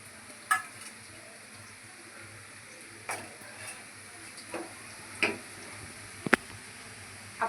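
Whole red chillies and black pepper dry-roasting in a pan, quiet and faint, with a few sharp scattered clinks and scrapes of stirring against the metal.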